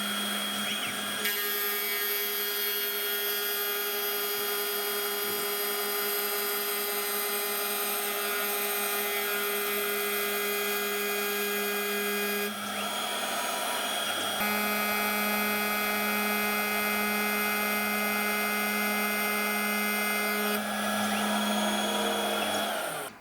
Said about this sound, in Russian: И вот сейчас подготовлю, выфрезерую из алюминия держатель.